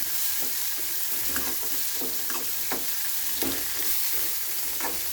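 Tomato and curry leaves fry in a pan while a spoon stirs them, a constant close sizzle under repeated scraping strokes at an irregular pace.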